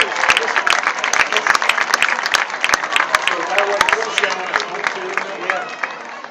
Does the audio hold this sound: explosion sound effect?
no